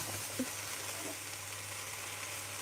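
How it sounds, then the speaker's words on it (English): Onions fry in a pan in a home kitchen, giving a faint, steady sizzling hiss over a low electrical hum, with one soft tap early on. "I'm afraid my mic is picking up the frying of the onions."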